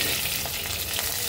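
Bay leaf, whole black cumin, cut potatoes and green chilies frying in hot oil, a loud, dense, continuous crackling sizzle held close throughout, with no voices.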